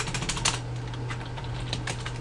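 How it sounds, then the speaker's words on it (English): Random characters are typed rapidly on a computer keyboard, a quick irregular patter of close, crisp key clicks with a faint electrical hum underneath and no talking. "as I monkey paw the keyboard"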